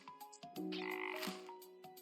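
Frogs croak in the Legends of IdleOn video game, several short tonal croaks alongside one longer drawn-out croak, all clear and close against quiet game sound with no talking.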